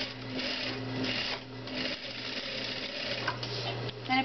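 A domestic sewing machine runs in bursts while stay-stitching a garment armhole, a fast mechanical whir with a steady motor hum that starts and stops several times, close and fairly quiet.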